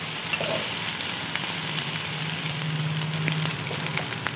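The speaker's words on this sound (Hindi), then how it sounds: "और इसको फ्राई कर दे रही हूँ।" Small cut okra pieces deep fry in hot oil with a constant close crackling sizzle, joined by a low steady hum.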